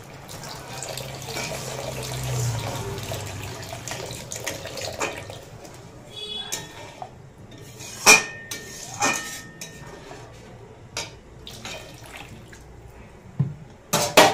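Water is poured into a pan of spice masala for paneer butter masala, a soft running splash at first, followed by scattered clinks and taps of utensils against the cookware.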